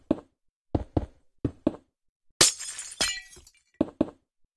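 Glass blocks break in a Roblox game with short, crisp knocks followed by a bright shattering crash, heard close and isolated between moments of silence.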